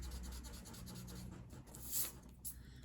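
Pencil on paper drawing a curved line, a soft continuous scratching stroke, faint and close, with a couple of brighter scrapes near the end.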